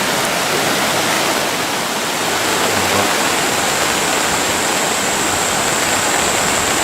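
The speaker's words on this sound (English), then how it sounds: "Copper Creek, alright. That's a creek." Rushing creek water in the Copper Creek wilderness of the Daintree, Australia, roars as a loud, steady broadband wash with no pauses.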